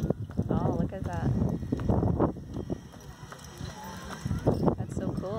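Horse hooves clip-clop steadily on pavement as the animal pulls a Santa carriage through a neighborhood at Christmas, close and clear, with excited voices and a faint whinny-like sound over the hoofbeats.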